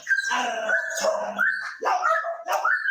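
A police K9 dog in training gives a run of loud, close, whining barks and yelps in quick succession.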